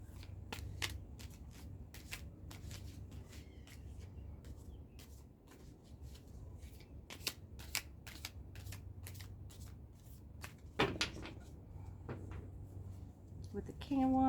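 A deck of tarot cards is shuffled repeatedly, giving crisp riffling flutters and snapping slaps at a fairly quick pace under a low room hum, with a person speaking at times.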